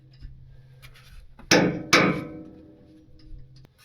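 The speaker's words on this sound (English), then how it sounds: "If you're gonna hammer a bolt up out of somewhere, leave the nut on" Two sharp metallic hammer blows, close and loud, striking a nut left threaded on a bolt to drive it out of a fifth-wheel trailer hitch, with faint clanking before and after.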